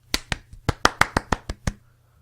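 A Sim character in the video game MySims claps about ten times in a quick, slightly uneven burst, sharp and close, over a low steady background hum with no talking.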